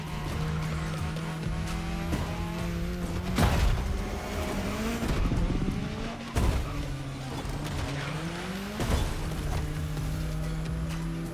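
Car driving through the state capital streets of Hawaii in The Crew Motorfest, with a steady engine drone, shifting pitch as it accelerates, and occasional tire squeals and thumps, loud and close throughout.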